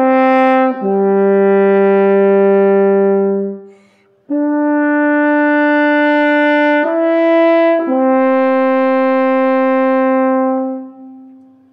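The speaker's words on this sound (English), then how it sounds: "I played the French horn, and it sounds like this." A solo French horn plays sustained, mellow notes, a long low tone, a pause, then several held notes stepping up and down, close and clear.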